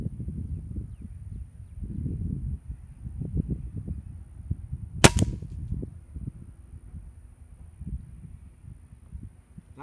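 A single sharp crack of an Air Venturi Avenger .22 air rifle firing a Crosman dome pellet, close and abrupt, midway through quiet outdoor rustling and low background noise.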